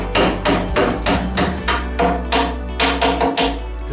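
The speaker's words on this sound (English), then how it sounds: "if it's a little tight, you can probably hammer it softly, not too hard, just to bring the bolt in." A hammer taps a bolt into place while a bathroom vanity is being installed, giving about a dozen steady, evenly spaced metallic knocks close by over a low background hum.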